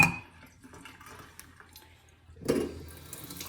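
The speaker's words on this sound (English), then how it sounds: "I'm going to put some more water in there" Water runs from a tap into a pot of pork neck bones in a kitchen sink, a faint trickling that swells into a louder rush of splashing water for the last second.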